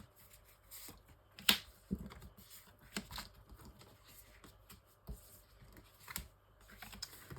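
Tarot cards are drawn and laid out for a six-card spread, with soft shuffling, slides and light taps of cards at close range, quiet and intermittent.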